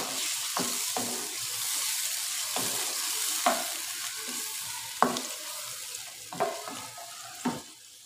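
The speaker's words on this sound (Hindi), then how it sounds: "अब इसको भूनेंगे।" Meat and yogurt fry together in a pan for achar gosht, giving a steady close sizzle broken by a series of sharp scraping stirs roughly every second. No one speaks.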